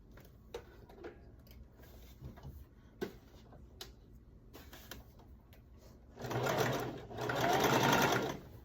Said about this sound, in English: Since this is stretch fabric, stretch sequin, I'm using a zigzag stitch.